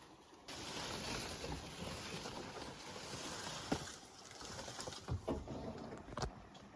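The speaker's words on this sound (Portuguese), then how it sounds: "Tem uma queda d'água aqui, pequenininha. Mas olha o barulho." A small waterfall on a river, a continuous rushing splash of falling water close by, with a few sharper splashes and knocks near the end.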